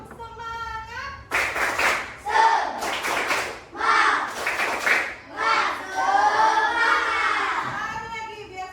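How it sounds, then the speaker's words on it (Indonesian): A classroom of students performs a rhythmic spirit clap during an arts lesson: a teacher's voice opens, then loud patterned bursts of group clapping alternate with children chanting together, close and energetic. "Coba kita semuanya tepuk semangat."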